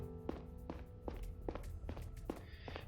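Footsteps from the noir detective game Lacuna fall in a steady, even walking rhythm, about seven soft thudding steps at a relaxed pace, close but quiet, with no talking.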